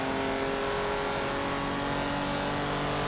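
A 1959 Jaguar in Forza 7 runs flat out at full throttle, a loud, steady engine drone with a constant pitch and no break.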